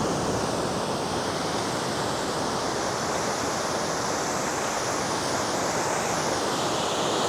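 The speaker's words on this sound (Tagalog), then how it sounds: "Oh, ganda ng alon, no?" Steady roar of ocean surf breaking continuously on Nai Harn Beach, Phuket, Thailand, loud and close, with a constant wash of foam and no voices.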